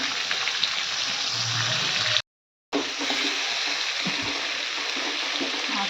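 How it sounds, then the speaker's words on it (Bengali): Bottle gourd fries in hot oil with a dense, continuous hiss and crackle, cut by a brief silent gap midway before the sizzling resumes at the same strength. "লাউটা দিয়ে দিল তেলের মধ্যে"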